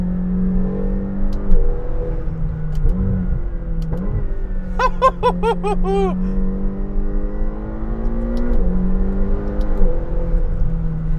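A Lamborghini engine revs and climbs through gears, pitch rising and falling in repeated pulls, with a sharp high burst in the middle, loud and close.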